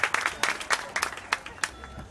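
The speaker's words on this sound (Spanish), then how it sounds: "pedimos fuerte aplauso" Audience applauding at an award ceremony for the Celebres del Camuy Arenas, a short burst of scattered, uneven hand claps from a modest crowd, fairly close.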